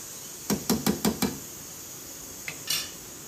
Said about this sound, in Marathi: आता झाकण ठेवून देणार आहे ग्रेव्ही छान घट्ट होईपर्यंत